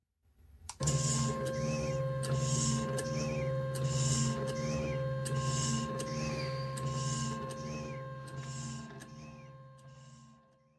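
A stepper motor drives a battery-powered cordless milker. It gives a steady electric whine and hum, with regular mechanical ticks repeating at an even pace for several seconds after starting up abruptly.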